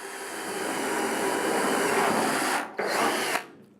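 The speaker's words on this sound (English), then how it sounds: "Now you notice that my drill, all right, I'm going to just push in, start it up" Power drill bores a hole for a flexible duct, a loud sustained whirring grind that runs for over two seconds, stops briefly, restarts for a short burst and then cuts off, close and alone.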